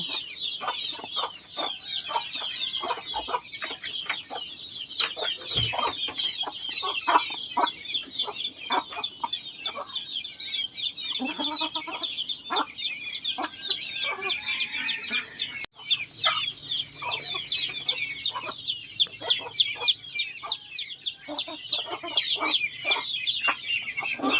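Chickens and ducks on a Lao village farm cluck and chirp in a dense, continuous chorus of rapid, rhythmic calls, close by, with occasional faint human sounds underneath.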